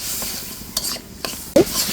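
Spices, green chilli and vegetables are stir-fried in oil in a pan with a continuous sizzle. Several stirring strokes sound at intervals, the last one a louder clink of utensil on pan.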